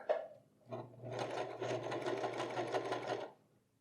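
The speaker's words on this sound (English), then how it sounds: "then I can finish sewing this thing on" A sewing machine stitches a zipper onto pants, with a short start and pause, then a steady rapid mechanical hum of about two and a half seconds, close and fairly quiet, before stopping.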